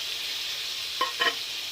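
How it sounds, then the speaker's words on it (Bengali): Soaked ground cumin, coriander, turmeric and chili powder hit a hot pan, giving a faint steady sizzle followed by two short bursts of spluttering and stirring. "এবার আমি এর মধ্যে জিরে, ধনে আর হলুদ, লঙ্কার গুঁড়ো, এই যে গুঁড়ো মশলাটা ভিজিয়ে রেখেছিলাম সেটা দিয়ে দেবো।"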